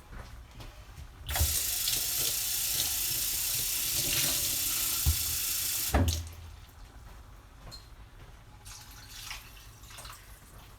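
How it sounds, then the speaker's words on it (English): Tap water pours in a steady rush for about five seconds as a couple of cans of water are added to a Mexican bean, bacon and beer soup pot, then stops, leaving faint kitchen clatter and drips. "And then I'm going to add a couple of cans of water."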